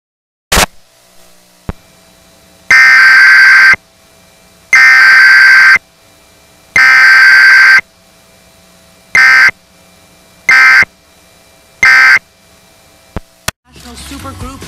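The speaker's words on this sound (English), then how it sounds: "activation of this emergency alert system to broadcast important information and directions to the public" Emergency Alert System attention tone: a loud, steady two-tone electronic alert sounding in six bursts, three long then three shorter, separated by brief gaps, after a short click, ending with a burst of noise.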